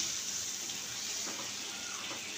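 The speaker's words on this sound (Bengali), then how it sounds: "এখন আমি এর মধ্যে সামান্য পরিমাণ পানি অ্যাড করব, 1/2 কাপের মতো" Water poured from about half a cup into rohu fish chutney simmering in a pan gives a steady, close splashing rush that runs unbroken for a couple of seconds, with no one speaking.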